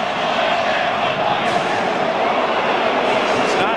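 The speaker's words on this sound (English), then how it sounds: "Crowd not happy with it." A football stadium crowd at Texas versus Nebraska roars and jeers in a loud, continuous wash after a 15-yard penalty, while a broadcaster talks over it.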